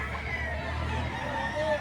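A rooster crowing at a Filipino poultry seller's, a single short call fairly close, over background crowd babble and a low steady hum.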